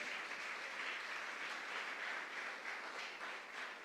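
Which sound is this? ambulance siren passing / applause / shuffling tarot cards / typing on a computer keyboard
applause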